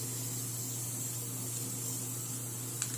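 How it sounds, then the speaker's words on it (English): Valspar spray paint hissing steadily from a can, a continuous close, even spray that runs for a few seconds with a steady low hum beneath it and a small click near the end. "This Valspar is different from any other spray paint that I've ever used before."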